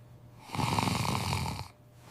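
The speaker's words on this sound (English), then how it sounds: "I snore at night." A person snores once, a single rasping inhale of about a second rising above quiet room tone and then fading back.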